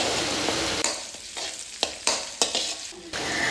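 Ginger and garlic frying in a pan, a steady close sizzle broken by several sharp scraping stirs of a spoon against the metal.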